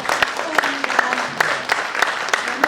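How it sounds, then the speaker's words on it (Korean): Audience applause at a book launch event, a steady patter of clapping from a room full of people with a few sharper claps standing out, lasting throughout. "우리 다시 한번 우리 신창호 교수님께 박수 한번 부탁드립니다"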